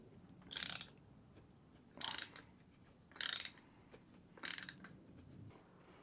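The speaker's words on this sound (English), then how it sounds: "This is an oil filter opener, and I'm using this because it doesn't get any additional shavings inside of it." A hand oil filter opener cuts around a Toyota Tacoma oil filter, giving four sharp ratcheting clicks spaced about a second apart, faint and close in a quiet space.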